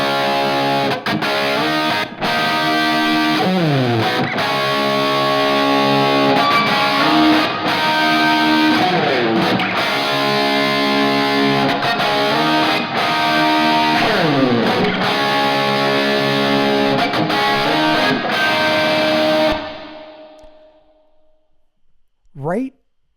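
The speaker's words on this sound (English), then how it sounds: "let's add some reverb" Full, dense music mix carrying a washed, reverberant tail that blooms and lingers as the track stops near twenty seconds, leaving a decaying echo and a brief final hit; no talking over it.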